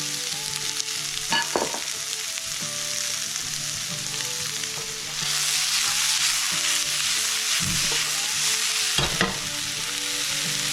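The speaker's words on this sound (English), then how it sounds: "I'm also going to put in the pastrami" Red peppers and pastrami sizzling steadily in a frying pan for a breakfast scramble, with the sizzle swelling halfway through and a few scraping stirs from a utensil, close and with no voices.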